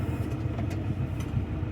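A pickup truck engine runs steadily nearby, a low, even rumbling drone that holds throughout a short stretch with no talking.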